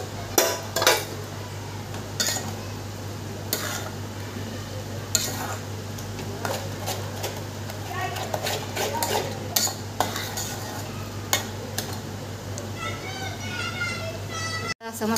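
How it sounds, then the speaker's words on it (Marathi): Spice paste sautéing in oil in a pan, with a spoon stirring and scraping against the metal over a soft background sizzle, while a person talks throughout. "तर मग या मसाल्याला चांगलं तेल सुटेपर्यंत जरा फ्राय करायचं"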